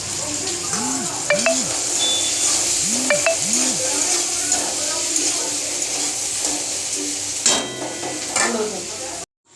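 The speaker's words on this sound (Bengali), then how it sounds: "তেলের মধ্যে পেঁয়াজগুলো দিয়ে দেব, লাল করে ভেজে নিয়ে তুলে নিতে হবে।" Onions fry in hot oil until browned for a home-cooked biryani, giving a steady close sizzle throughout with occasional stirring scrapes and faint low vocal tones.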